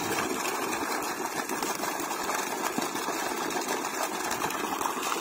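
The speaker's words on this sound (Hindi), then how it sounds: "और देख सकते हो ये अपना बोर जो है चालू है" A 5 HP borewell water pump motor runs steadily on a farm, a constant droning hum with a faint high whine, close by and unvarying, with no talk over it.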